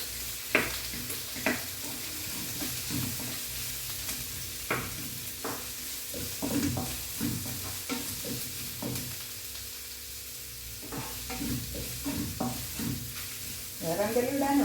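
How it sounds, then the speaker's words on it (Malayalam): Chicken curry sizzles in a tall pan while a spoon stirs it in repeated scraping strokes, with a steady frying hiss throughout and a louder burst of sizzling near the end. "നമുക്കിതിനെ ഇളക്കാം."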